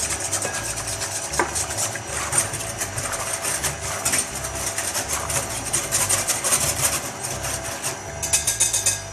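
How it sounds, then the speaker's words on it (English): A whisk beats egg into a yeast mixture in a bowl, a continuous close scraping and rubbing texture with quick, uneven strokes that keeps going for about nine seconds. "Then we whisk in the egg."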